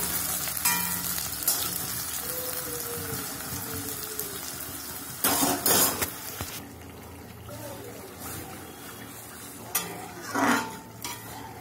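Onions frying in a home kitchen pan, a steady broadband sizzle running under stirring scrapes, with sharp bursts of clatter around the middle and near the end.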